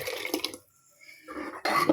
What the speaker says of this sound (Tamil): கொஞ்சோண்டு தண்ணி விட்டு